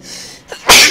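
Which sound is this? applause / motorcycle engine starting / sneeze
sneeze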